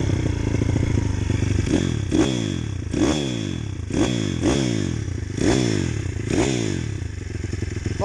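A battered 2012 CRZ 150 motorcycle engine runs with repeated blips of the throttle, a mechanical clicking clatter riding on the rough exhaust note, close and steady.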